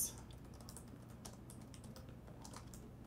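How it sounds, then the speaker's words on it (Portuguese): Personal details typed on a computer keyboard while opening a brokerage account online: a quiet, steady patter of light key clicks at an uneven rhythm, heard close with no talk. "Você vai clicar e aí vai digitar os dados."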